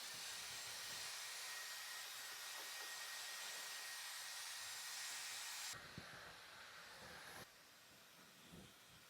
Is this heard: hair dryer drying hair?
yes